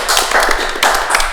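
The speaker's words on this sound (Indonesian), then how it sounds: "Tepuk tangan dulu" Applause from a podcast audience, a dense burst of hand claps that swells and fades across the moment, fairly close and steady, with no talking over it.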